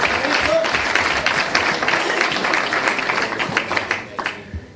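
A university lecture audience in Buenos Aires breaks into dense, loud clapping that holds steady, then thins into scattered claps before fading away.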